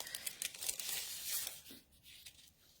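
Craft material for poinsettia petals tears and crinkles as a piece is cut by hand, a quick close, papery ripping that fades after about two seconds into quieter handling.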